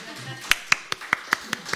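A church congregation at an Easter Sunday service claps in a steady, sparse rhythm, about seven distinct sharp hand claps in quick succession.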